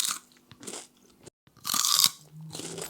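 Eggless churros (balah el sham) are bitten and chewed, giving loud, close crunches in two bursts with a brief pause between.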